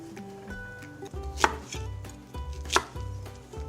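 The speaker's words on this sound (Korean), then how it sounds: "그리고 애호박도 반 개 준비해 주시고요. 반 자르고 또 반을 잘라서" Knife chopping zucchini on a cutting board, a few distinct sharp knocks spaced apart over a low background hum, close and without talk.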